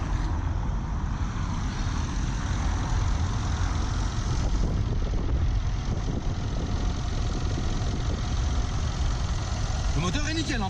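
A car engine idles with a steady low rumble, close and continuous, as people talk over it.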